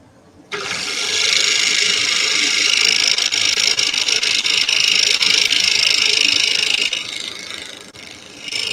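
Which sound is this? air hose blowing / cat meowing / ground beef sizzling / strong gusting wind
air hose blowing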